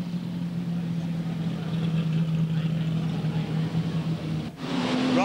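Super sedan race cars circle a wet, slippery speedway track at night, their engines a steady, continuous drone at moderate distance, with a brief dip before the roar picks back up.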